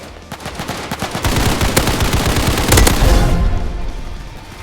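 Machine gun fire in the shooter game Hypershot, loud and close, with rapid bursts of shots. A heavy volley builds toward the end, then trails off.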